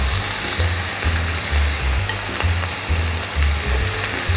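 Chili and garlic fry in a pan for Korean BBQ, a loud, close, continuous sizzle and crackle over a low rhythmic rumbling pulse, with no talking.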